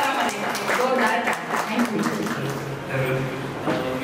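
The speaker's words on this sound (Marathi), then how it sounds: "तिच्यासाठी जोरदार टाळ्या वाजवायच्या" Guests clap together at a Marathi baby shower (dohale jevan), a dense spatter of applause running steadily under a speaking voice.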